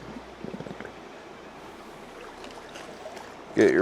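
River water runs steadily at a fly-fishing spot, a soft continuous wash close by with a brief louder splash near the end.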